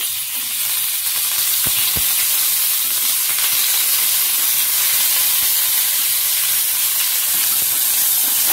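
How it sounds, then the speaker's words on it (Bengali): Loud, steady sizzle of curry leaves frying in hot oil in a pan on a gas stove, a dense hiss running throughout with a couple of faint knocks near the start. "আমি গ্যাসে কড়াই বসিয়ে দিয়েছি তার মধ্যে অল্প একটু তেল দিয়ে দিয়েছি আমি দিয়ে দেব দুটো কারি পাতা"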